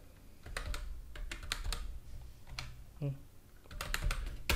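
Keys clatter on a computer keyboard while setting up PHP files, a close, quiet run of irregular clicks and taps with a faint voice underneath.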